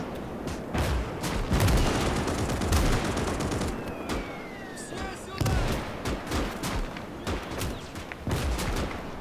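Artillery and gunfire rumble through a battle in the Gates of Hell strategy game: dense, continuous explosions and rapid shots overlap in loud bursts, with a whistling shell streaking past midway.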